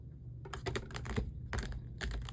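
Tarot cards shuffled briskly in the hands for a pick-a-card reading, giving repeated crisp riffling bursts in quick clusters over a low background hum, close and fairly loud, with no voice.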